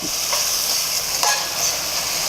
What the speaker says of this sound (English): a little bit of olive oil just to get it started and soften them up. Stir those up.